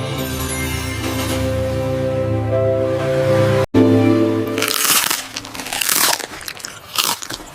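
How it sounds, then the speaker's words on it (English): Crunchy bites and chewing of a sandwich at a beach lunch, a few sharp crunches near the mic after a steady background hum, loud and close with no talk. "This sandwich is crunchy and tasty."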